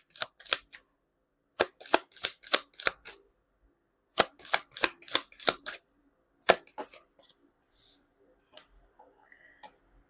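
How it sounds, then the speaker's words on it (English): Tarot cards are shuffled in sharp bursts of quick riffling snaps, several rapid clusters separated by pauses, close and crisp in a quiet room, trailing off into softer handling sounds. "You saw me shuffle."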